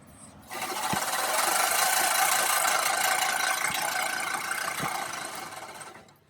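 A Scotts Classic 20-inch reel mower cuts through fresh grass nearby, giving a steady, loud whirring clatter of spinning blades. The noise keeps going for several seconds, with a few light knocks, and then eases off as the mower stops.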